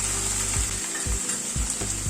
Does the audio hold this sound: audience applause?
no